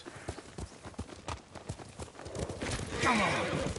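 Horse hooves clip-clopping in the video game Ghost of Tsushima, a quick rhythmic trot of clear close hoofbeats that swells into a louder rush, with a brief neigh near the end.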